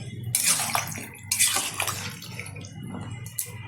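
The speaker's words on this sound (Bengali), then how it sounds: "দিয়ে দেবো পরিমাণ মতো জল" Water pours into a pot of chicken and potato curry in uneven splashing bursts, close and moderately loud, with short pauses between the pours.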